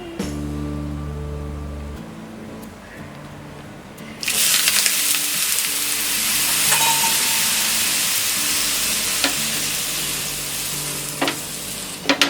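Oil hits a samo rice dosa on a hot tawa over a medium flame, bursting into a loud, bright sizzle after a low humming lead-in, then hissing steadily up close with a few crackles.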